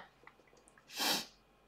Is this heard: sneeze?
yes